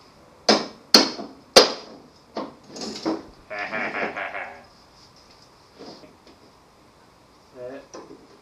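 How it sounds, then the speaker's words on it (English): A hammer strikes the deck pin on a lawn mower, sharp metallic blows landing in quick succession, loud and close, with softer knocks and handling clatter afterward. "So break out the hammer!"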